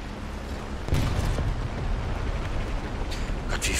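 Tank machine gun and main cannon fire in the War Thunder arcade game, one sharp boom followed by rumbling blasts and sustained gunfire noise, dense and loud, with a few brief bursts near the end.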